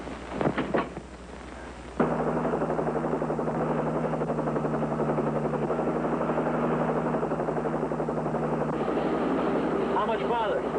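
Patrol helicopter flying overhead, its steady loud rotor drone with a low thrumming beat starting abruptly and holding continuously to the end, with voices briefly audible near the close.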